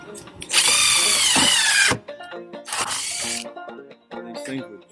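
Power drill boring a couple of holes through the end of an RV foam insulation skirting brace, two loud sustained whirring bursts separated by a pause, followed by handling clatter.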